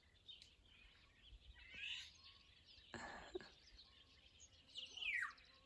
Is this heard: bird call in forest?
yes